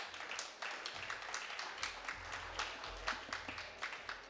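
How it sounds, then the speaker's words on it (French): An audience at a conference on climate and resilience law and the property market applauds, a soft, continuous patter of many hands clapping at some distance, fairly faint and steady throughout. "Vous pouvez applaudir."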